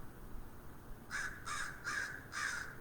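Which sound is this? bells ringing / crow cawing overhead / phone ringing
crow cawing overhead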